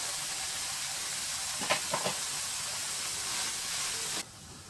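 Onion pieces fry in a pan for bitter gourd fry, giving a steady close hiss and sizzle throughout with a few faint clinks, before the sound drops quieter near the end.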